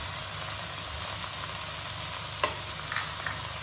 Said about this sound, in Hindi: और टमाटर को भी प्याज के साथ थोड़ी देर फ्राई कर लीजिए।